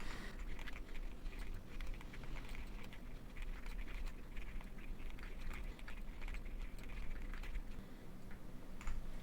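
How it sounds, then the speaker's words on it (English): Keys clatter on a computer keyboard as a prompt is typed, a quiet, steady stream of soft ticks and taps close by, with no talking. "So let me type out this prompt."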